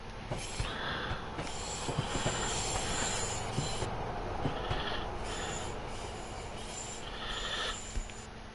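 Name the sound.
freight train passing in Train Sim World 6 video game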